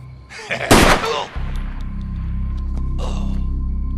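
A loud gunshot in a film fight scene, one sharp blast with a booming tail, followed by a steady low rumble and a faint later burst.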